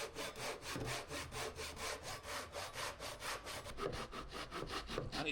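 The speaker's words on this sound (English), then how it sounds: "So I've got to use this saw to do it." A hand saw scores an angled line into wood with a steady rhythm of rasping back-and-forth strokes, close and moderately quiet, with no talking.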